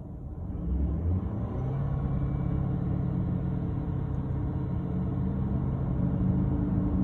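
A 2019 Ford F-350 diesel pickup running a manual exhaust regeneration, a steady low engine rumble with a broad drone, close and constant without talk.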